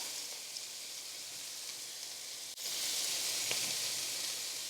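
Julienned onions hit a pan of browning lamb and spices, and the steady frying hiss jumps suddenly louder midway, then holds as a bright, close, continuous sizzle with no voices.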